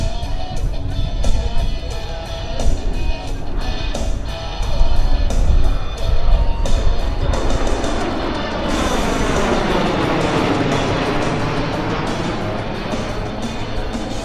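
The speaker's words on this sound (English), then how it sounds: "The MV-22 Osprey from the right on the high-speed pass." A USMC MV-22 Osprey tiltrotor makes a high-speed pass at low altitude over an airshow at Quonset, Rhode Island. It comes as a loud, broad rotor-and-engine roar that swells and then sweeps down in pitch as it passes.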